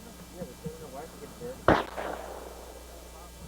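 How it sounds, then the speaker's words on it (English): A single loud, sharp gunshot cracks out at a tin can during target shooting, ringing briefly after the blast, with faint voices murmuring before it. "I'm gonna shoot that can again."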